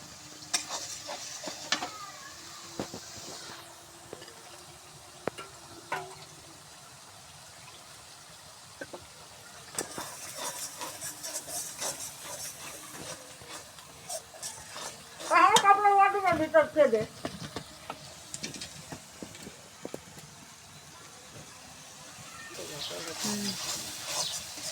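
Ginger-garlic-cumin paste with chili powder and turmeric being sautéed in a pan, soft sizzling with intermittent scraping and stirring clinks, a louder burst of stirring midway, and a voice talking over parts of it.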